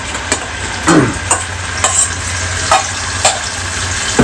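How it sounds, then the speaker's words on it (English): Spice paste for Khandeshi-style black chicken (kaala maas) frying in a pan, a steady close sizzle with repeated stirring scrapes at a loose, uneven rhythm and no talking. "And I'll fry this till the entire water doesn't dry out"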